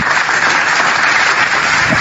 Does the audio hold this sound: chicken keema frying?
no